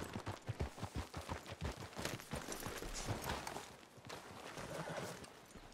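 Horse hooves clip-clopping in a steady, rhythmic patter in Red Dead Redemption 2, close and fairly loud, with gunfire-like bursts and ambient game noise mixed in and no clear neigh standing out.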